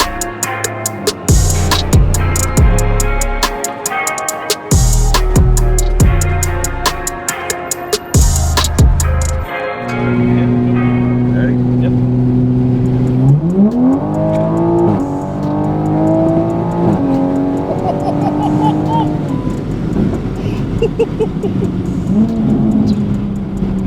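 Toyota Supra with a B58 engine running on methanol, heard from inside on a ride: rapid loud revving with quick gear shifts, then a long climbing pull through the rev range that eases off near the end.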